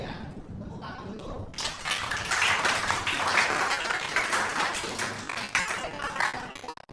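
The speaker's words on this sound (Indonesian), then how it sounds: "Tepuk tangan dulu." A classroom of pupils breaks into a burst of clapping, a dense, lively patter of many hands close by that rises quickly and keeps going for several seconds before tapering.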